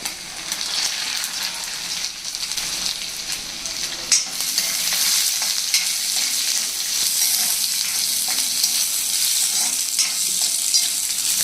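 Ginger and peanuts fry with a steady, close sizzle in a pan, stirred now and then with a few scraping knocks over the continuous crackle, no voices.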